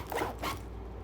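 A zipper on a PU faux-leather handbag is pulled in two quick, close rasping strokes, the second shorter, with a quiet room hum underneath.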